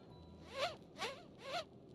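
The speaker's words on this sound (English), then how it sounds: "Zipper's jammed." A jammed clothing zipper tugged three times in the Mystery Case Files hidden-object game, each pull a short rasping zip with a rising-falling whine, evenly spaced and fairly close.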